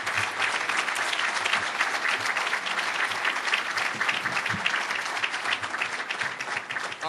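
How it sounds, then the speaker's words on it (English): An audience bursts into sustained applause, dense steady clapping from a crowd filling the room without pause for several seconds. "how about a big round of applause for our..."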